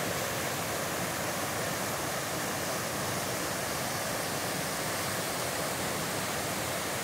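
River rapids rush in a steady, dense, hissing roar that stays even and close throughout, with no breaks or other sounds.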